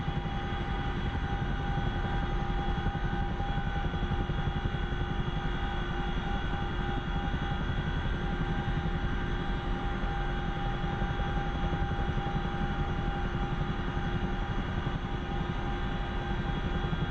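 Aircraft in the DCS flight simulator game, a steady, loud, droning engine roar that holds at a constant level for the whole stretch with a few tonal whines, and no talk.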